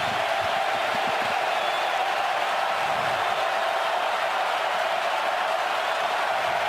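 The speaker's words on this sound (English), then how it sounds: "the crowd erupts now trying to get another 3 and out" A packed college football stadium crowd roars steadily during the James Madison vs Louisville game, a dense continuous wash of cheering and noise heard from within the stands.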